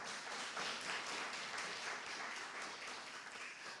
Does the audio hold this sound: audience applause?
yes